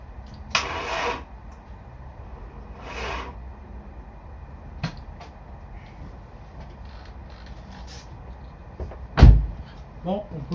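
A car engine cranks twice in short whirring bursts and fails to start, followed later by a loud thud, with intermittent speech in between.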